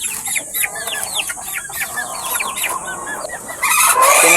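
Hungry chickens on a small chicken farm cluck and squawk in a busy overlapping chorus, several birds calling close by, with the noise swelling louder near the end.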